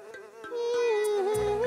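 A cartoon mosquito buzzes in a steady, whining drone that wavers slightly in pitch, close and continuous, with a couple of brief soft taps near the start.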